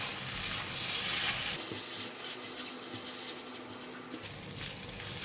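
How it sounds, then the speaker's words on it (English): Green peas fried rice being stir fried in a pan gives a continuous close sizzle and scraping rustle of the spatula tossing rice, steady and fairly loud throughout. "Now I'm going to stir fry"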